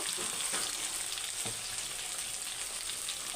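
Chilli and turmeric powder sizzle in hot oil in a pan for a Bata fish curry, a steady crackling fry with a few soft stirring scrapes, close and constant.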